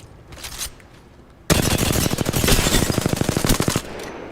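Rapid automatic gunfire from a video game rattles loudly and continuously for a couple of seconds after a quieter lead-in, a dense fast burst of shots up close.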